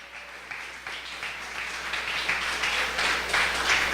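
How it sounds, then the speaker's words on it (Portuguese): A church congregation applauding together, a dense roomy patter of clapping that swells slightly louder as it goes on. "dá glória a Deus e aplauda esse Deus Todo-Poderoso"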